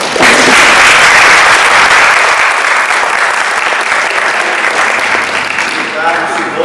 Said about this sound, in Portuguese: Bom, palmas.